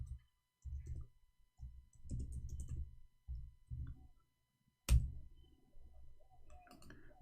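Typing on a computer keyboard in short bursts of soft clicking separated by pauses, with one sharper key tap midway; close and fairly quiet.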